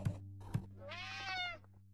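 A cartoon cat in the puzzle game Friday the 13th: Killer Puzzle gives a single drawn-out meow after two soft thumps, close and clear against a low steady game hum.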